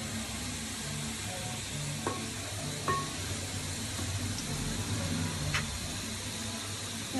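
Onions browning in oil for chicken kadai give a steady, moderate sizzle with faint stirring scrapes and a few light clinks over a constant low frying hiss, with no voices.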